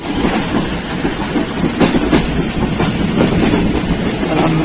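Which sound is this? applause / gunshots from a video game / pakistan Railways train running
pakistan Railways train running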